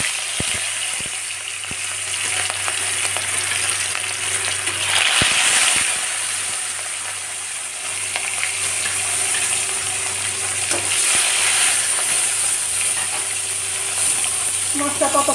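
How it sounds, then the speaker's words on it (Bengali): Pieces of rui fish coated in salt and turmeric sizzle loudly in hot oil in a pan, a steady crackling fry with occasional spatters and faint clinks throughout. "তেলটা আমার গরম হয়ে গেছে, নুন হলুদ মাখিয়ে রাখা মাছ আমি দিয়ে দিচ্ছি তেলের মধ্যে।"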